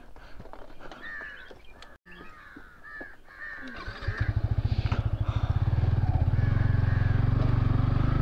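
Crows caw repeatedly at a moderate distance, then a motorcycle engine starts and idles loudly, its steady rumble covering the calls, on a ride in Nepal.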